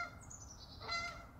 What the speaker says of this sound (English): Some geese flying by.